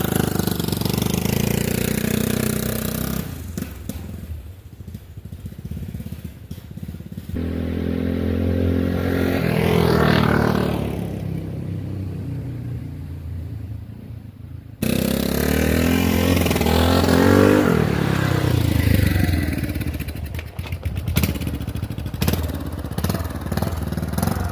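Turbocharged Yamaha Big Bear ATV engine running close by, revving up and down in loud bursts with a rising whistle of turbo spool over a rough, throaty exhaust, broken by a brief cut partway through.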